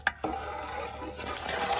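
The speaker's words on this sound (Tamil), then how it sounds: "கலக்கடா கலக்கடா கரைஞ்சி எடுத்து கலக்கடா" Jelly powder being stirred by hand into hot water in a pot, a steady scraping, swishing stir close by after a sharp knock at the start, with no talking.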